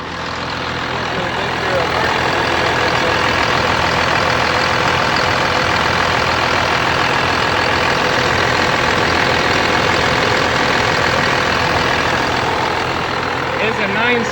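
A turbocharged truck engine with an HX35-based turbo and a 3-inch exhaust running loud and close, a dense continuous roar with a steady drone that holds throughout.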